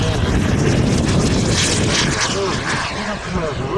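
A combat jet flies past at an air show in Montluçon-Guéret, a loud continuous engine roar filling the air, with a commentator speaking over it.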